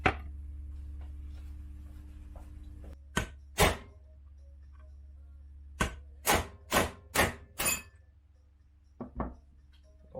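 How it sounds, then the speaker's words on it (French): Sharp metallic hammer blows on a punch driving parts from a Yamaha Banshee cylinder while fitting a Hinson sleeve, striking in scattered single hits and quick bursts of three or four, loud and close over a steady low hum. "Je vais aller prendre un chasse un peu plus petit que ça quand même. Et un marteau un peu plus viril."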